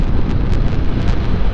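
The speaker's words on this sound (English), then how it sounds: "it's kind of windy out, so you feel that wind" Heavy wind buffets the microphone in a continuous low rumble while riding a Honda NC700X touring motorcycle on a windy day, loud and close, as if moving at speed outdoors.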